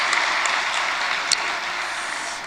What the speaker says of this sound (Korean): 청년들 축복의 박수.